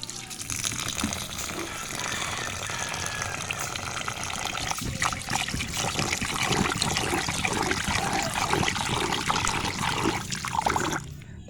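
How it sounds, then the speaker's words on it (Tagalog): Rice grains being washed in water while butterfly pea (blue ternate) flowers soak nearby, a steady wet sloshing and trickling of water swirling through the rice, fairly close and continuous throughout, with a brief clunk near the end. "maghuhugas naman tayo ng bigas natin gagamitin"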